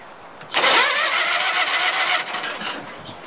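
A Case lawn tractor's small engine cranks and catches, then runs loudly with a raspy, uneven sputter for a couple of seconds before dropping back to a lower, rougher idle.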